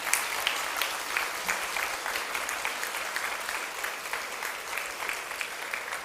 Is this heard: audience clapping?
yes